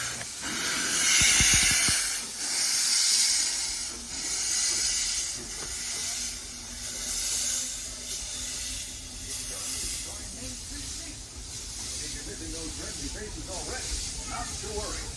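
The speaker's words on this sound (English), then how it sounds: "let's check out the steam train departing Main Street Station." Steam hisses loudly and steadily as a steam train pulls away from Main Street Station at Walt Disney World, with a slow pulsing chuff beneath the rushing spray.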